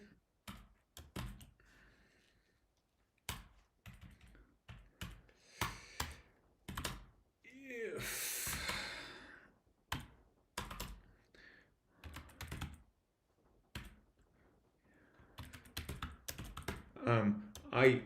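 Rapid clicking of computer keyboard keys in bursts with pauses, close and fairly quiet, interrupted by a brief rushing breath-like noise midway.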